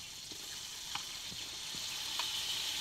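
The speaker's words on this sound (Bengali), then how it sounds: "মাংসটাকে ভালো করে কষে নেওয়ার জন্য মাংসটা কড়াই তুলে দিচ্ছি" Country rooster meat frying with spices in a kadai, giving a faint, even sizzle with a few soft stirring clicks, heard close and alone with no voices.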